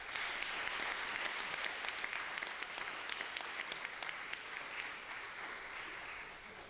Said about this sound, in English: giving them a round of applause